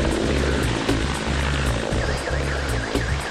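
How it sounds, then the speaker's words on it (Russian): A helicopter flies along the rocky Kamchatka coast, its steady rotor chop and engine drone loud and close throughout, with no voices. "Наш вертолет отправляется вдоль скалистого побережья Камчатки к островам Курильской гряды."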